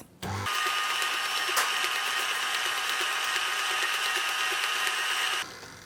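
A stand mixer beating an egg into blondie batter, switching on abruptly and then running with a loud, steady high-pitched motor whir and beater hum for several seconds before cutting off.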